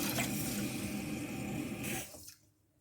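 Rinse water from washing rice pours out of a saucepan in a steady splashing stream for about two seconds, then tapers off and stops, close and fairly loud.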